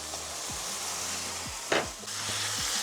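Chicken pieces sizzle and fry steadily in a hot pan for a goulash with potatoes and beets, with a few soft knocks and a brief scrape of stirring.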